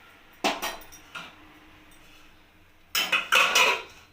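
Metal pot clatter while stirring eggplant and flat beans, then a lid set on the cooking pot: a few sharp clanks near 0.5 s and 1.2 s, and a louder cluster of clinks and scrapes toward the end, close by, with no talk.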